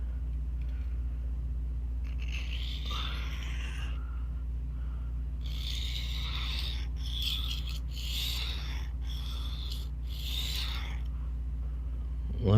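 A knife is drawn across a 1000 grit diamond plate in several slow, faint rasping strokes, each a gritty scrape with short pauses between, over a low steady hum.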